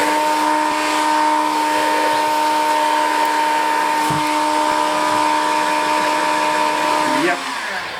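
A heat gun blows steadily as it heats a 2001–2005 Volvo P2 S60/V70 headlight to free the glass, a loud, even whooshing hum that runs unbroken before cutting out near the end.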